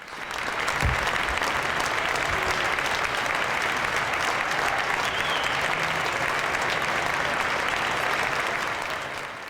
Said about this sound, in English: everyone give them a round of applause and congratulations